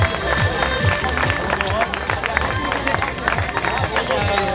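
Crowd applause at an outdoor triathlon prize ceremony for long-distance winners, continuous scattered clapping with background crowd chatter and an announcer's voice over it.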